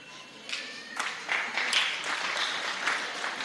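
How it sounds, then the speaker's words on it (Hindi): Audience clapping builds in a hall during a Jain monk's talk, a steady spread of applause with some voices and laughter mixed in. "भाई ये ताली बजा रहे हैं।"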